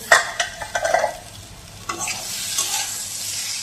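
Pointed gourd sizzles in a hot pan while a utensil stirs and scrapes, with sharp clatters early on and a steady fry underneath.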